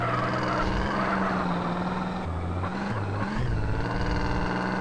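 A car speeds along in GTA San Andreas, its engine note stepping up and down in pitch as it shifts and revs. The sound is moderately loud and continuous, with no talking.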